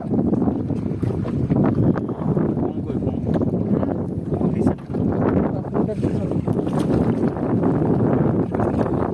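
A motorized fishing boat at sea off Oman makes a steady, close engine rumble mixed with strong wind buffeting on the microphone, while people talk over it.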